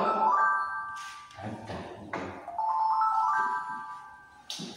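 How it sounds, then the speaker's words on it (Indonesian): A phone ringtone for an incoming call plays a repeating electronic melody of bright tones, fairly loud and close, with brief pauses between phrases. "Bentar nih, ada telepon masuk."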